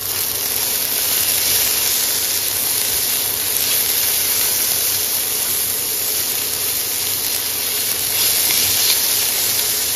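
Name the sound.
chopped chicken and vegetables sautéing in hot oil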